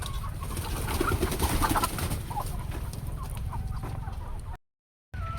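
Hens cluck continuously in a poultry shed, a dense overlapping chorus at moderate volume with no talk, ending in a brief cut to silence.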